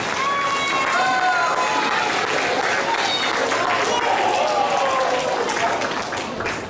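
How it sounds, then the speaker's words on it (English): Applause at a Balavihar graduation ceremony, steady crowd clapping sustained for about seven seconds with some cheering mixed in, fairly loud and continuous. "Now we give them a big round of applause."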